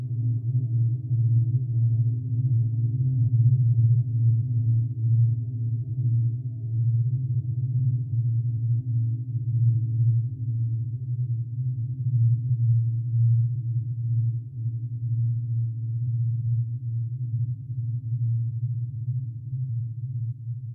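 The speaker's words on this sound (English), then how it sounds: "the mystery of the two tones emitted by the vibrating cup" A vibrating cup giving off steady low tones, two close pitches droning continuously and evenly for about twenty seconds with no other sounds or talk.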